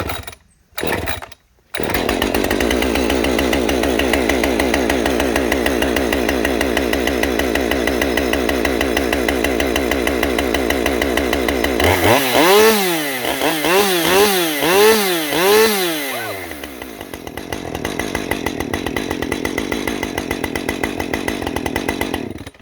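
Echo CS-310 chainsaw with a muffler mod, starting after a couple of short pulls, then idling steadily before revving up and down repeatedly in rising and falling surges, close and loud, then settling back.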